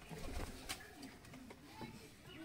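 A pair of old domestic breeding pigeons coos softly in a home loft. The low coos are faint and brief, set against a background hum.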